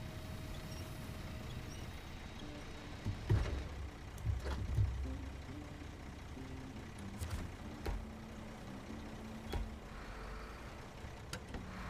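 A heavy truck idles and rumbles low and steady during a vehicle rescue in Maine, with a few louder engine surges and clunks as it creeps forward; no talking.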